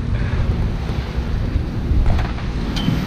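Wind buffets a microphone aboard a sailboat on the Mediterranean near Port Leucate, a loud low rumbling roar with a wash of sea noise beneath and no voices.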